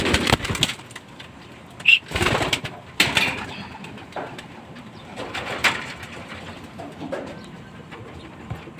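Pigeons in a loft coo softly and intermittently at close range, mixed with scattered wing flaps and shuffling knocks.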